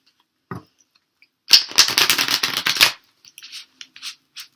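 Tarot cards are shuffled in a quick riffle lasting about a second and a half, followed by a few soft taps and flicks as the deck settles, close up.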